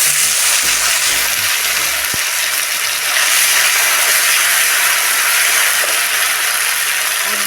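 Mustard paste hits hot oil with neem leaves already in the pan, setting off a loud, steady hiss of frying that carries on without a break and with no talking.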